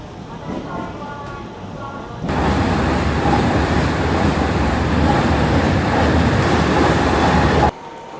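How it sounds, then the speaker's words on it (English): A train bound for Namba in Osaka gives a loud, steady rumble and roar that starts abruptly and holds close and continuous for several seconds. "I made it on the train."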